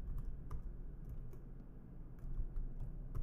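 Typing on a computer keyboard in Rhino 6, a quick run of soft, close key clicks at an irregular pace over a low background hum.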